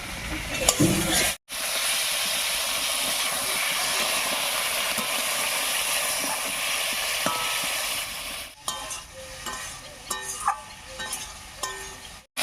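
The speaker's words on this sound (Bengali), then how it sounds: "এবারে মশলা বাটা জল দিয়ে কষিয়ে নেবো" Spice paste mixed with water sizzles and hisses loudly in a pan for fish curry, a steady frying roar that cuts out briefly, then gives way to quieter bubbling with scattered stirring clinks.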